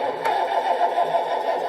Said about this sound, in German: Ich mache den Motor nochmal an.